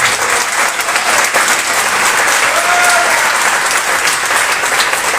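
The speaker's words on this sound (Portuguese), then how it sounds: "aplauda ao Senhor Jesus" A church congregation at an evening service applauds loudly and steadily, with dense clapping filling the space and no pause.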